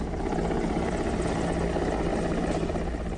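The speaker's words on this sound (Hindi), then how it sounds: "रेस्क्यू हेलीकॉप्टर धीरे धीरे इस शख्स के पास पहुंचा।" An Air Force rescue helicopter hovers during a flood rescue. Its rotor and engine give a steady, loud, continuous drone with no talk.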